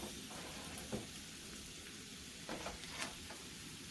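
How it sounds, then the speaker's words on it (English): Mustard seeds sizzle in hot oil in a pan for spiced masala potatoes, a quiet steady hiss broken by a few scattered sharp pops and crackles. "place your mustard seed in there, and be careful because they're going to start to pop"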